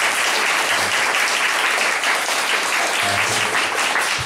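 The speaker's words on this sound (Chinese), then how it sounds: "给大家热烈掌声。" A standing audience at a talk gives sustained, warm applause, a dense, even wash of many hands clapping that continues without a break.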